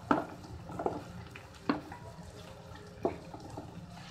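Tomatoes cooking in oil in a pan for a masala okra curry give a soft, faint frying under a few sharp clinks of a spoon against the pan.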